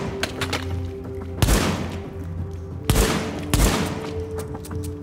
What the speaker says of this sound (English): Now just shoot your pistol and reload over and over until it's out of ammo.